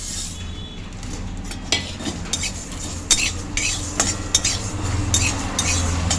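Spices frying and being stirred in a pan of oil for a Bengali mango pickle, with steady sizzle and scattered scraping, clinking stirs of the utensil against the pan, no talk.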